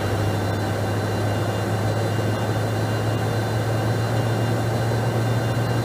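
Jet engines of a Cessna Citation X in a flight simulator roar steadily at takeoff power, a loud continuous whine over a deep low hum that stays constant throughout, with no talk.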